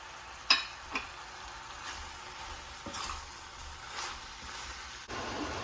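Chapati pieces sautéing in a pan for kothu parotta, a soft, low sizzle broken by a couple of sharp spatula knocks early on and light stirring scrapes, fairly quiet and close.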